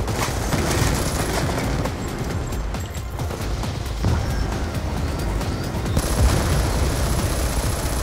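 Dense, continuous automatic gunfire from a favorite weapon in Call of Duty Black Ops 2, loud and close with rapid overlapping shots and occasional heavier impacts throughout.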